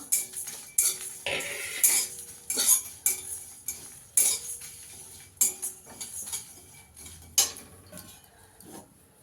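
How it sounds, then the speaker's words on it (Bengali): Fennel seeds, cumin and dried red chillies dry-roasting in a pan, heard as a series of sharp metallic clinks and scrapes of a spoon against the pan in an irregular rhythm, close and fairly clear with no talking. "এটা একটু শুকনো খোলায় ভেজে গুঁড়ো করে নেবো।"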